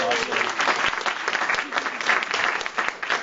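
An audience at a live awards celebration clapping for prize winners, a steady wash of many hands applauding close and loud without talk.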